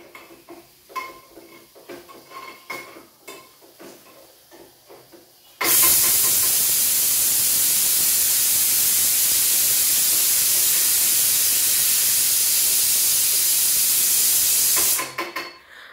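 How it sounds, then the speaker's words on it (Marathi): A pressure cooker holding urad dal lets off a loud, steady rush of hissing steam. The blast lasts about nine seconds after a few quieter kitchen clinks and then stops abruptly. Nobody speaks. "इकडे कुकरची शिट्टी पण झालेली आहे"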